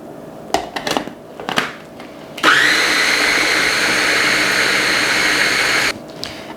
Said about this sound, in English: I think I'm going to process it a little bit more.